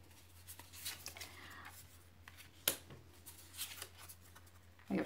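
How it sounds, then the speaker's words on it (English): Tarot cards being shuffled by hand, a soft papery riffling and sliding that comes in a few brief bursts, close and fairly quiet against a steady low hum, with one sharper snap in the middle. "I have to shuffle these cards a little."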